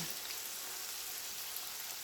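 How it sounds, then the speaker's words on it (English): Soft, steady sizzle and crackle of egg rolls frying in olive oil, a quiet continuous hiss without any voices. "And I am frying the egg rolls in olive oil."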